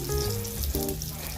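Saltfish fritters frying in hot oil, a steady close bubbling sizzle with a brief tonal clatter partway through.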